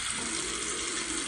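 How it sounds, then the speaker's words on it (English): A hotel bathroom faucet at a Hampton Inn & Suites in Baton Rouge runs water into the sink, a constant, even hiss of flowing water, close and alone with no voices. "we got hot and cold running water there."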